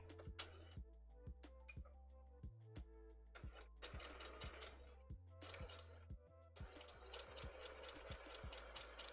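A sewing machine stitches back over existing stitches in repeated short runs, each burst starting and stopping with rapid ticking, separated by brief pauses and low background hum.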